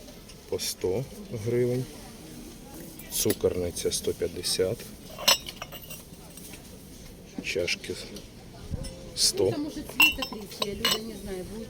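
Ceramic plates clink and clatter repeatedly as they're handled at a flea market, with a person talking intermittently over the sharp, bright knocks.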